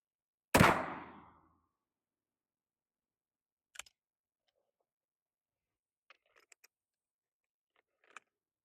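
A single loud 9mm pistol shot from an Echelon handgun fires into ballistic gel with a sharp crack and a short decay. A few faint clicks and small handling noises follow in otherwise quiet surroundings.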